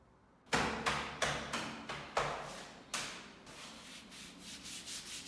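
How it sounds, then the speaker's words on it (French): Sanding strokes scraping across a wall during home renovation, a series of about eight loud rough swipes in steady rhythm, each fading before the next, with no talking. "Je suis contente que le ponçage ça avance vite."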